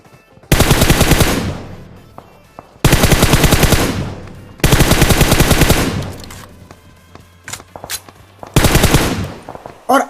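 Four loud bursts of automatic gunfire from PUBG Mobile, each a rapid sustained volley lasting over a second, separated by brief pauses with smaller scattered shots between, no talking.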